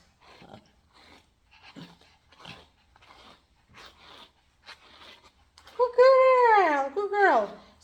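A dog growls during grooming after a run of quiet, broken sounds, the growl rising into a loud, drawn-out whining tone near the end.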